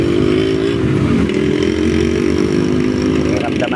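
A Keso Tanque V2 motorcycle climbs uphill at full throttle with a loud, buzzy, strained engine whine that stays constant, and a voice is faintly present underneath.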